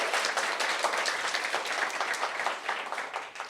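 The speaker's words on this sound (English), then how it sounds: "give him a huge round of applause" Audience applause after a speaker introduction at a university prize event, a dense, steady wash of clapping that holds strong for several seconds and thins slightly toward the end.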